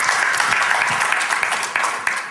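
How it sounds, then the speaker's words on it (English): Seminar audience applause, a dense burst of clapping that fades slightly toward the end, with no talk over it. "Give the man a round of applause."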